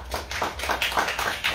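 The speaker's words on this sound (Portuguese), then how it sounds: "Salve de palmas" An audience at a film-festival debate gives a round of applause, a dense patter of hand claps heard from close by and continuing steadily throughout.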